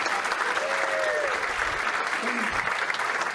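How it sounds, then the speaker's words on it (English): A theater audience gives a full, continuous round of applause after a stage production, a dense wash of clapping with a faint voice rising briefly underneath. "Let's give them one more round of applause"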